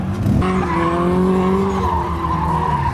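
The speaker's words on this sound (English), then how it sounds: "He's gonna come in, take a wide line, and then he's gonna e-brake right here." A drift car slides through a corner on an e-brake pull at a drift event, its tires squealing in a loud, sustained skid with wavering engine tones over about three seconds.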